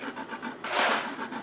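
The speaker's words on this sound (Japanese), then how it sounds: "こっち側とあと反対側をヤスリで" A hand file rasps against a small precision metal part, a few short rhythmic strokes with one louder, longer scrape near the middle, close and alone.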